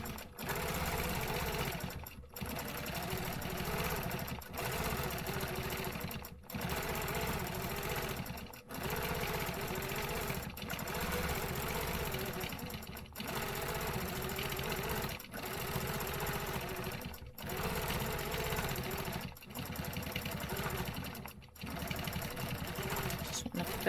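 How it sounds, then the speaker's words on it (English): A sewing machine runs steadily, stitching small paisley shapes in repeated whirring bursts, each a few seconds long with brief stops between them, close and fairly loud. "I'm just going to go ahead and stitch kind of these little paisley things"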